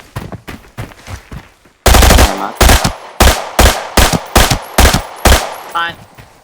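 RPK light machine gun firing in the shooter game Arena Breakout, loud repeated bursts of rapid automatic shots, short volleys at first, then heavier sustained bursts with brief gaps, close and punchy.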